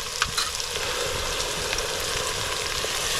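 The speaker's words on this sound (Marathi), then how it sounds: "छान अशी आपल्याला परतवून घ्यायचे जरा फ्राय करून घ्यायचे" Ginger, garlic and coriander paste frying with softened onion in a pan over a lowered flame, giving a steady, close sizzle with a few light scrapes and clicks.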